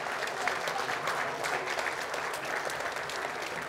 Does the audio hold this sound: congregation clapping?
yes